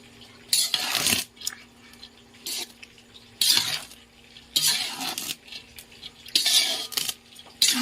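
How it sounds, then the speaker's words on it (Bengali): Metal utensil stirring mixed fried rice in a pan, clattering scrapes in irregular bursts with quiet gaps between, close and fairly loud with no talk. "এবারে আমি এটা একটু নেড়ে নেব।"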